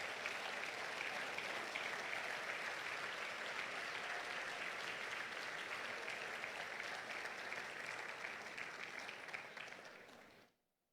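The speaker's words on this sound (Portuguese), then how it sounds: "Você pode dar uma forte salva de palmas para o Senhor Jesus?" A church congregation claps in loud, sustained applause, a dense even wash of many hands that holds steady for about ten seconds before cutting off abruptly.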